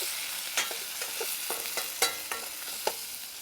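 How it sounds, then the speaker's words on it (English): Chicken being stirred and coated with tandoori masala, chili powder and Bassar mix in a hot Balti pan, giving a steady close sizzle broken by several sharp scraping clicks of the utensil. "So look, we coat all that chicken in the lovely spices."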